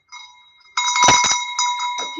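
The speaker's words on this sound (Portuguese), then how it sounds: "ativar o sininho" A bright YouTube subscribe-notification bell sound effect rings out in a few quick metallic strikes with sustained shimmering tones, clear and loud with no voices.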